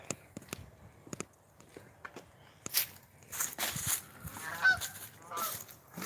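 Geese honk repeatedly as a flock flies past outdoors at night, calls scattered and moderately distant, with footsteps and light rustling nearby and brief murmured speech.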